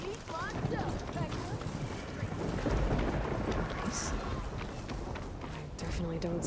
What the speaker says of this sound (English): Sounds like a storm's a brewing.